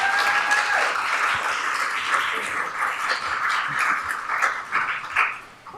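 Audience applause at a Board of Education meeting: a dense, steady wash of many hands clapping that holds for several seconds, then thins and tapers off toward the end.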